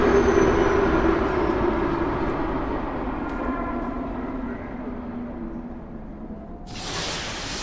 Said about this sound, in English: Yay, here's my train.